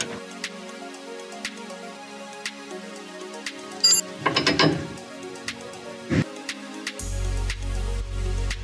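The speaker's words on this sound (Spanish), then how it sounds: "Con una llave de 5 octavos, una matraca y un dado de 5 octavos," A ratchet with a 5/8 socket loosening a bolt on a vehicle's steering or suspension parts, with quiet clicks, a burst of rapid ratcheting clatter midway and a metallic clunk, then a steady hum.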